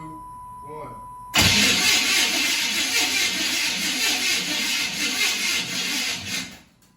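An engine cranks and catches with a sudden loud roar, then runs steadily and rough for several seconds before cutting off, preceded by quieter talk and a tone over a fuel pump's whir; a nervous restart after an earlier fire.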